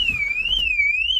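A car alarm fitted to a van at a vehicle auction wails with a loud, rising and falling electronic siren tone, close by and alone.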